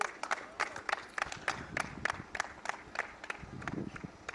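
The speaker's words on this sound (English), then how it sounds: "That little bit of applause there again" Spectators at a triathlon support station give a short burst of scattered, moderately distant clapping, the claps arriving in a loose, uneven rhythm under faint crowd and movement noise.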